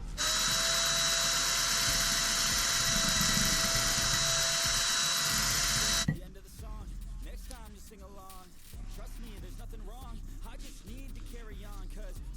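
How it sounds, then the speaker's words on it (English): A stone hone whirs steadily as it is driven into an S14 brake caliper bore, then cuts off abruptly midway, leaving faint background noise and a voice. "These stones will hone this out and hopefully clean it all up."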